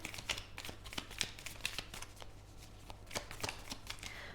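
Tarot cards are shuffled by hand in a quick stream of soft riffling flicks and taps, close and fairly quiet, with no talking.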